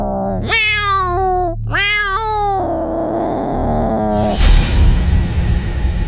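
House cats yowl at night as if ready to fight: two long, loud, pitch-bending meows, then a lower drawn-out moan that gives way to rough rumbling noise, close and unaccompanied by talk.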